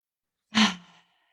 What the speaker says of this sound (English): So yeah, we're breathing deeply.